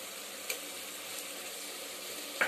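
Curry leaves and green chilies hit hot oil beside softened tomatoes, giving a steady close sizzle with small crackling pops at the start and a louder burst of spitting at the end.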